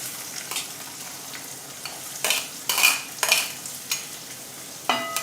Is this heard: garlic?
yes